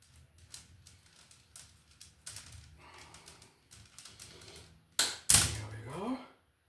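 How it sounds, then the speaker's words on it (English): Metal-clad MC cable being cut during commercial surface wiring, a harsh loud burst of cutting and metal rasp lasting about a second near the end, preceded by quieter handling taps and clicks. "We'll cut it about right here."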